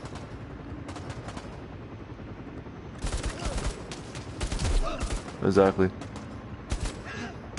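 Gunfire in the PSVR shooter Bravo Team, quiet at first and then bursts of rapid automatic shots breaking out midway, loud and close, with a voice speaking briefly among the shots.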